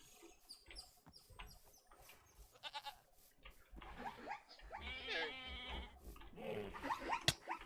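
A goat bleats in a video game zoo, a few short wavering calls, strongest midway, mixed with scattered quieter game sounds at low overall volume.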